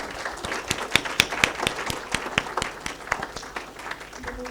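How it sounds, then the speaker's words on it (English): Small audience at a book talk on the Mughals clapping for the author, a sparse run of distinct, uneven handclaps from a modest group, fairly close, thinning out toward the end. "I think a big round of applause for Zeenut"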